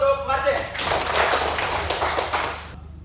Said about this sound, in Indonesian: Ya, tepuk tangan dulu untuk Martin.